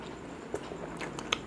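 Crisp crunching bites, a few sharp crackles spaced irregularly, close up with no talking.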